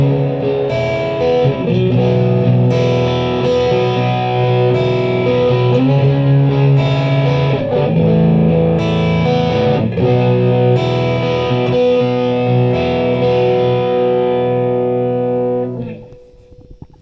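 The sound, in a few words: electric guitar with distortion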